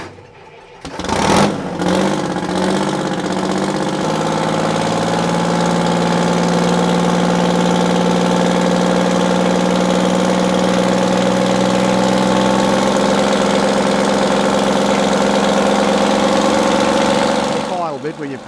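An old collector's vehicle engine fires up with a sharp start, then runs steadily at a loud, rough, knocking idle close by for over fifteen seconds before cutting off.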